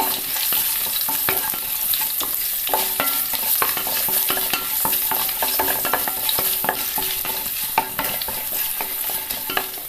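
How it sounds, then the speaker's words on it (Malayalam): Ginger frying in a pan for a mixed vegetable stir-fry, with a continuous loud sizzle broken by frequent scraping and clinking strokes of a stirring spoon, close up and without voices. "അതിലേക്ക് നമുക്ക് ഇഞ്ചി ചേർക്കാം. ഇഞ്ചി ഒന്ന് മൂത്ത് വരണം."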